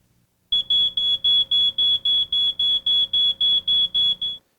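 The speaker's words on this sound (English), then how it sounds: "If your smoke alarm goes off, do you know what to do?" A smoke alarm beeps loudly and rapidly, a piercing high-pitched tone repeating about a dozen times in quick, even pulses, close by and alone.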